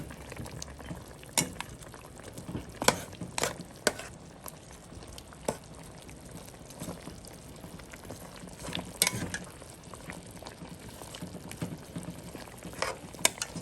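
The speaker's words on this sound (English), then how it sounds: "Let's see, it's stewing real good." Curry chicken stewing in a pot bubbles and pops close by, with soft continuous simmering broken by sharper irregular bursts and spatters.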